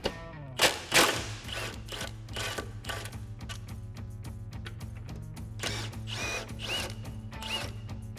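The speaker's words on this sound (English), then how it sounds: "now we're going to remove these two 13mm bolts here and here" Two 13mm bolts on a 2015-2024 Mustang rear cradle being backed out with a socket, a rapid mechanical whirring ratchet buzz running steadily throughout after a couple of sharp knocks at the start.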